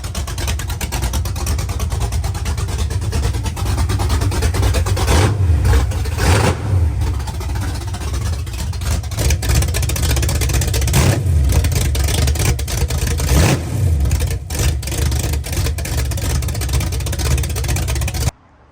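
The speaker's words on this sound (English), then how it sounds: "So there's a little, I guess, cold start open header." A car engine with open headers on a cold start, idling around 700 rpm, runs loud and close with a raw, steady drone, broken by a few short throttle blips along the way.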